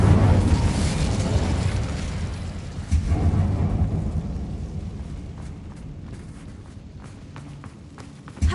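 An Incendio fire spell in Hogwarts Legacy roars out as a loud, rumbling burst that swells again midway and then fades to a lower rush, ending in a sharp thump.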